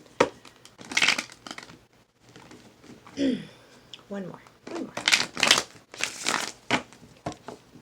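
Tarot cards being shuffled by hand, bursts of crisp riffling and papery crinkling in several quick rounds, mixed with someone talking between and over the shuffles.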